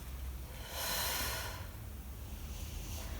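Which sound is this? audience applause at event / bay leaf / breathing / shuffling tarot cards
breathing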